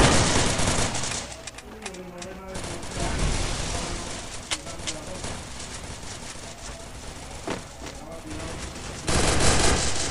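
Bursts of automatic gunfire from a Free Fire 4v4 PvP tournament match, rapid rattling volleys scattered across the stretch with a louder burst at the end, amid game ambience.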